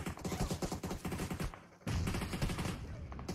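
Rapid bursts of gunfire from PUBG Mobile, a mobile battle royale game, crackle continuously and loudly across the clip with a brief lull midway before the shooting resumes.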